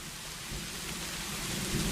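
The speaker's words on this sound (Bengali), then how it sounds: "এদিকে বৃষ্টি হচ্ছে" Steady rain falling outdoors, a soft continuous hiss with a low rumble underneath, holding at moderate loudness throughout.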